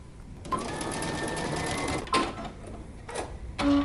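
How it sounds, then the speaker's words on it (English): A sewing machine runs a steady stitch along the edge of a fabric foldover clutch for about a second and a half, then stops and restarts in short bursts, heard close up with no talking. "we're going to stitch close to the edge to close this opening up"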